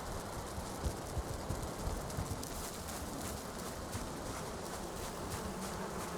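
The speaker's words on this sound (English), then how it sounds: "All the bees." Bees buzz around beehives in the video game Valheim, a soft, continuous insect drone with faint flickers of wingbeats, heard quietly and on its own without any talk.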